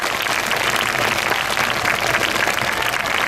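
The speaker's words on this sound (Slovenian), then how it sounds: "Ko takole ni glasbe, se seveda tudi aplavz bolje sliši" Audience applause for rider Robert Bombek after a Lipizzaner obstacle-jumping display at a university equestrian show, with no music playing; dense, steady clapping from a crowd fills the whole stretch at an even level.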